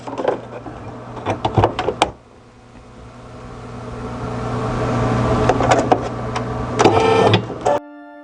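An embroidery machine stitches the red outline of a felt strawberry, giving a loud mechanical whirring and rapid clatter that rises and falls in bursts and then stops abruptly near the end.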